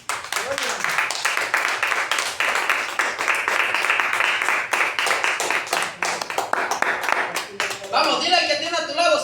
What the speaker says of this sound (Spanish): Denle un aplauso a Dios por lo menos.